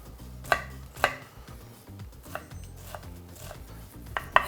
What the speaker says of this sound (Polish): Kroimy drobno w kostkę cebulę